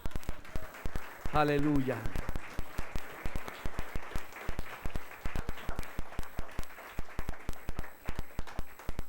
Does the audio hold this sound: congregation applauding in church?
yes